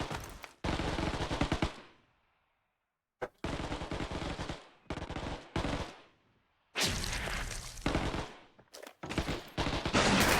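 Gunfire from the mobile survival shooter Undawn: loud, close bursts of rapid automatic fire broken by short silent gaps, with the longest and densest run near the end and no talking.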